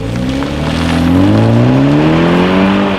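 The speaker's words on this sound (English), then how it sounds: "330i sedan here, X-Drive, in sport mode here, up to speed." A 2019 BMW 330i xDrive sedan accelerates hard in sport mode, heard from inside the cabin. The engine note climbs steadily, loud and continuous, with no talk over it.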